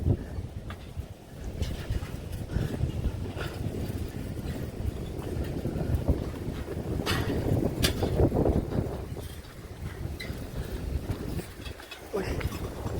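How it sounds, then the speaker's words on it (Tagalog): Strong wind blows outdoors on a mountain trek, a steady rushing roar buffeting the microphone with low gusts and rustling throughout, loud and close, with no clear talk over it. "Mahangin."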